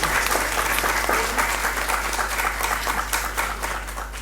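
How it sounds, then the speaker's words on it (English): Seminar audience in a hall giving a big round of applause, a loud dense burst of clapping that tapers slightly toward the end, with a low hum underneath. "Can we have a big round of applause for him?"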